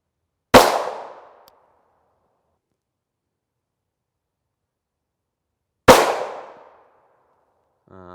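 Two sharp, loud pistol shots from a Smith & Wesson MMP 5.7 with a 5-inch barrel fired at body armor, about five seconds apart, each cracking hard and decaying quickly into silence.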